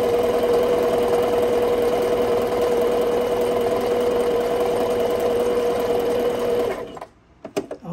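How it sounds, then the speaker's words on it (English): A Singer sewing machine stitches a zigzag, running steadily with a loud, close, even mechanical hum and needle rhythm for several seconds before stopping, followed by a few light clicks. "Let me make a zigzag on it."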